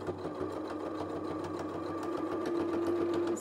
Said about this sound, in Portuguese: Vou pespontar em toda a volta.